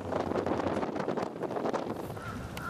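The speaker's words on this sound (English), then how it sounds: "here we are battling a 25-knot wind on the port bow" Strong 25-knot wind buffets a sailing yacht at sea, a dense, continuous roar and rushing with wind noise on the microphone, steady and loud throughout with no talk.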